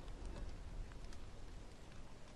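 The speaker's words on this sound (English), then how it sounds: "oh no, it's raining, I hate the rain, it's annoying" Steady rainfall in the survival video game Don't Starve, a constant soft hiss of drops with a low rumbling bed, moderately faint and continuous with no talking.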